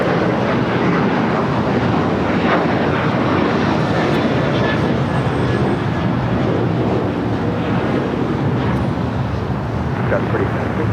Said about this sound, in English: This is Qantas Flight 11 coming up from Sydney.